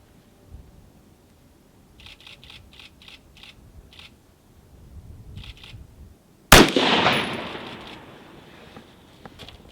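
A scoped rifle fires at a target, a single sharp, loud report cracking out after several seconds of faint clicks, its echo decaying over the next couple of seconds.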